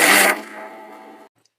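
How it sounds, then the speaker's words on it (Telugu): A kitchen mixer grinder blends masala paste again with a little water added, a loud close whir that cuts out sharply, winds down with a fading hum, then falls silent. "ఇంకోసారి మిక్సీ పడదాం."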